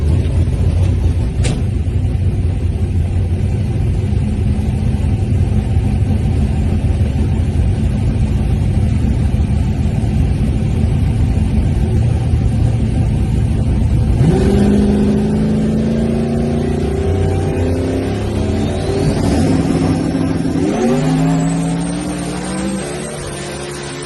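Onboard sound from inside a radial drag race car on a Texas pass, where a heavy engine rumbles loudly, then revs climb sharply through several gear changes before the roar fades toward the end.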